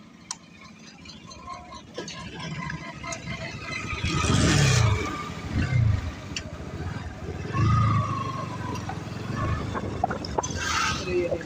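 A 160 motorcycle with a weak, run-down battery being started: the engine catches and rises in several uneven revving bursts over a rough idle, fairly close, with some background noise around it.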